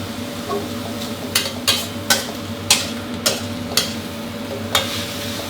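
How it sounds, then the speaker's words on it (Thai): Pickled bamboo shoots and minced pork stir-fry in a pan under a steady sizzle, while a spatula scrapes and clicks against the pan in a series of spaced strokes. "พอเราผัดมาได้สักแป๊บหนึ่งครับ จนหน่อไม้ร้อนได้ที่แล้วก็หมูเริ่มที่จะสุกดีแล้วนะครับ"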